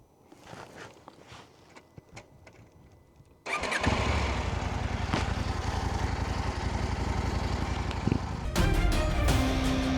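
After some faint clicks and rustling, a motorcycle engine that had failed to start sputters to life in Mongolia and settles into a loud, steady idle, with a brief rise in pitch near the end.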